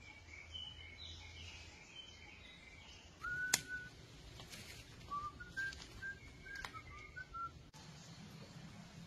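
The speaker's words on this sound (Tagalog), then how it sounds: "Ang sarap din pakinggan ng mga huni ng ibon dito." Birds call in the woods of the countryside, with scattered whistled chirps and short rising notes at middle distance over a quiet, faintly rustling background, including one sharper, louder call partway through.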